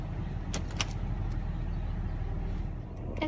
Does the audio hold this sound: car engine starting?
yes